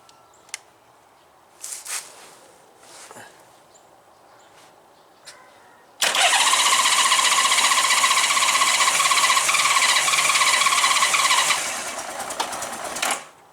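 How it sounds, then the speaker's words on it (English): A Honda GL1500 Goldwing motorcycle engine is cold-started without choke: a few quiet clicks and knocks come first, then the engine suddenly catches and runs loud and close for several seconds before dropping to a lower, rougher idle. "We'll just try one more cold startup before I upload this video. We'll try it without the"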